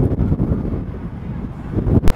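Wind gusting across an open cruise ship deck on a warm day, a steady low rumbling buffet against the microphone that swells near the end, with no voices.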